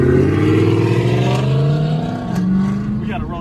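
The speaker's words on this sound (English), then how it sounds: "This shit sound like some super sh. Let's hear it again." Dodge Hellcat Challenger with an aftermarket exhaust revving loudly and close by, a steady deep roar with rising and falling pitch sweeps, a voice talking over it.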